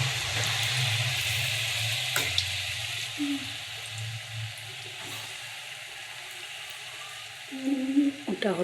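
Pitha made with date-palm jaggery fries in oil, giving a soft steady sizzle under faint kitchen clatter, with a brief spatter or running-water sound near the end.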